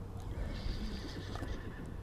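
A horse neighs and whinnies clearly in the open air near a fishing spot, with faint hoof clopping underneath and steady background noise, no one speaking.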